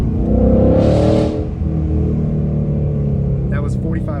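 A Ford Mustang engine revs hard to around 4,500 RPM, a loud rising roar that peaks and then drops back to a steady lower rumble, with a brief higher whine near the end.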